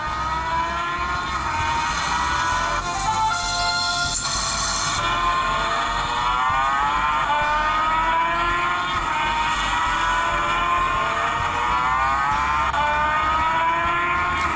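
A revving motorbike engine whines and rises in pitch continuously in a racing game played on a Xolo A500S phone, loud and steady, with no talking.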